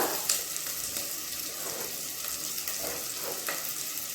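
Steady sizzling of onions sautéing in a hot pan, a continuous crackly hiss with occasional brief pops, fairly close and with no talking.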